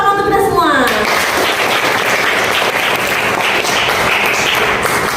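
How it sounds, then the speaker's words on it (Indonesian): A classroom of students bursts into sustained applause, many hands clapping densely and loudly for several seconds after a teacher's voice at the start. "beri tepuk tangan untuk kita semua"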